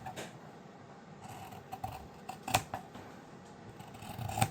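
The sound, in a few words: scissors cutting excess fabric off a sewn frog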